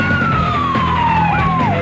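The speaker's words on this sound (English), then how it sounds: "Fire engine sirens can be heard approaching, but Noel ain't waiting." A fire engine's wailing siren sweeps downward in pitch, loud and steady, as it approaches over a constant rumble of traffic or engine noise.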